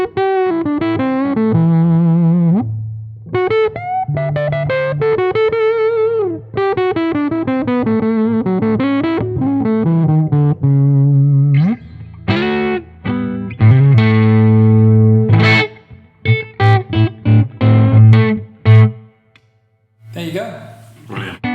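PRS SE signature electric guitar with humbucking pickups, played through effects with distortion and chorus, running through close, loud melodic phrases and sustained chords, then choppy stabbed notes with short gaps near the end.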